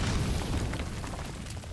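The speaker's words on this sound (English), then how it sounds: "No, I keep accidentally throwing grenades." Grenade blast in Metal Gear Survive, a heavy low boom that rolls on as a dense rumble and slowly fades over under two seconds, with no talking over it.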